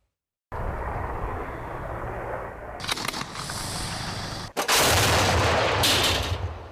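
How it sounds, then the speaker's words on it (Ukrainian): Combat near Toretsk: a roaring military aircraft engine sweeps across continuously, broken by sharp cracks of small-arms fire and heavy artillery blasts, loud and close, with no speech. "Тут щодоби літає бойова авіація, спалахують стрілецькі бої та без зупину працює артилерія"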